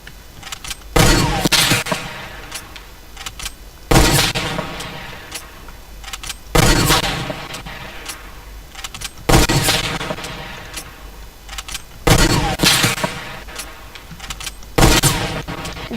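Rifle fire from a video game, comparing a semi-auto sniper with a hunting rifle: six loud, booming single shots at slow, even intervals of roughly three seconds, each with a ringing tail, and no talk.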